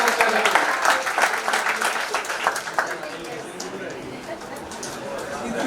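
Loud applause from a crowd at a Rotary Club installation ceremony, dense clapping that gradually thins and softens, with some chatter mixed in.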